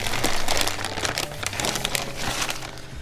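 A plastic bag holding keyboard keycaps crinkles loudly and continuously up close, with dense crackling rustles throughout the short stretch.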